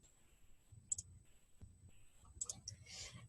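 A few light mouse clicks on a computer, sharp and quiet, two brief clusters of clicks with faint background noise between them.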